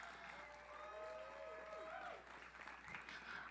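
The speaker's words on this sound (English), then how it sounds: "Let's give a round of applause to everyone you've seen so far." Audience applause at a school pops concert, a soft, steady patter of clapping from a crowd heard at a distance, with a few brief whoops rising over it.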